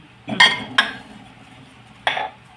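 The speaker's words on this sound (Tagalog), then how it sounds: "Ang gagawin po natin ngayon ay maghugas ng plato" Plates and cutlery clink and clatter in three sharp bursts while dishes are washed in a home kitchen, close and fairly loud, with a quiet pause between the second and third clatters.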